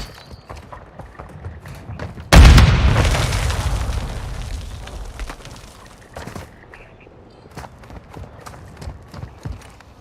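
A frag grenade in Call of Duty MW2 DMZ detonates with one sudden loud boom that rumbles and decays over about three seconds, amid scattered footsteps and small game sounds.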